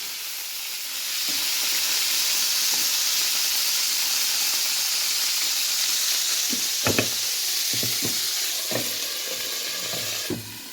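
Hot oil sizzling in a pan on a stove at home during dinner cooking: a steady, loud frying hiss throughout, with occasional knocks and clatters of utensils near the end.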